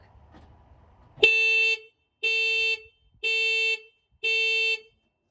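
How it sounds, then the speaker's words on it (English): Four loud, sustained blasts from a new, louder alarm horn fitted to a Ford Escort, in a steady rhythm, each about half a second long with short gaps, close and piercing, after a brief quiet rustle. "our new alarm horn is going to work and be louder"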